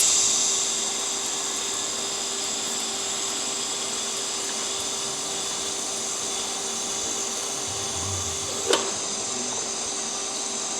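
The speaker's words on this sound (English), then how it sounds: "The weld's really good. Polishing it out." Weld on a turbo kit being polished with a power tool, giving a steady, loud grinding whine that holds nearly constant for about ten seconds, with one sharp brief knock near the end and no talking.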